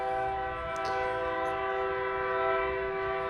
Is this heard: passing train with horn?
yes